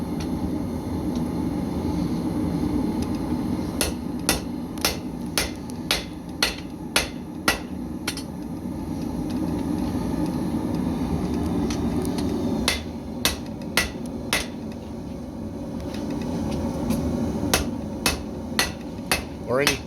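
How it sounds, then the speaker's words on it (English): A blacksmith's hammer striking hot metal on an anvil, sharp ringing blows in rhythmic bursts of several strikes separated by pauses, loud and close over a steady roaring forge background. "You're letting the anvil and the hammer do a good portion of the work."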